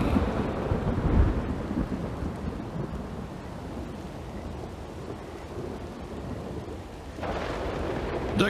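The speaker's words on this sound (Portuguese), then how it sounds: "eu ordeno que essa chuva pare imediatamente." Steady rain and rumbling thunderstorm from the Red Dead Redemption 2 game world, with a heavier thunder roll near the start and the downpour swelling again toward the end, no talking.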